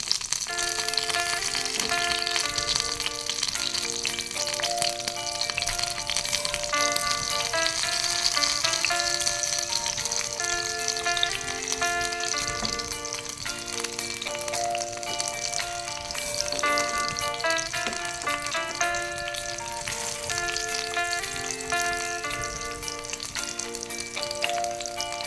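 Filipino lumpia spring rolls sizzle steadily in a pan of hot oil while being flipped, a constant crackling fry with bright tonal music playing over it and no talk.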